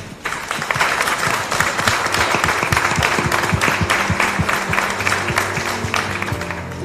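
Audience applause at an evening gathering, dense clapping with sharp individual claps standing out, steady for several seconds, with a faint tonal hum underneath.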